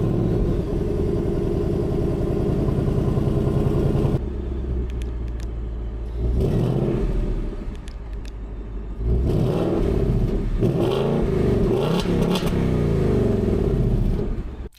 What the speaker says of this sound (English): You can remote rev directly from your key fob.